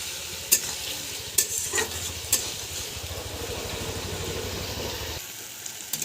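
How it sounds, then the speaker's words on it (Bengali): Spices sizzle while being sautéed and stirred in a frying pan, with a steady hiss and a low rumble underneath and a few sharp scrapes of the spoon against the pan, close and without talk. "মশলাটা ভালোভাবে কষিয়ে নেব।"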